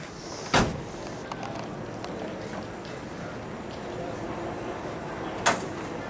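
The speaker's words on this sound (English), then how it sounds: "so let's shut the door" Door of a 1966 Ford Fairlane GTA convertible shut twice, each a sharp, close thud several seconds apart, over steady outdoor background noise with no talk.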